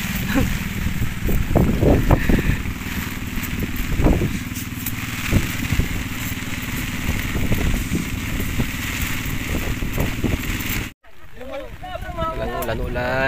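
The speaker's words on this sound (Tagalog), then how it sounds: "Lakas ng hangin." Strong wind roars and buffets the microphone with gusty rumbles for several seconds by a river, then briefly drops out before continuing under a faint voice.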